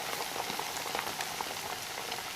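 Bottle gourd and sesame vadas fry in hot oil, giving a steady, soft crackling sizzle with fine popping bubbles, faint and continuous with no talking.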